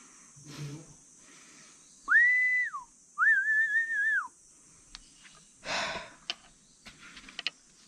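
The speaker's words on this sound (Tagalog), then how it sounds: "ikaw sumisipol" A person whistles two short sustained notes close by, the second longer and wavering, with breathy sounds and faint noises around them.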